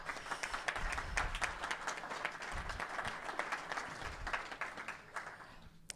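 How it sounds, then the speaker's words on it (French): An audience applauds an introduced guest at an evening public debate on Europe and finance, dense steady clapping filling the whole stretch before tapering off near the end, with no speech over it. "je vous propose de l'applaudir également"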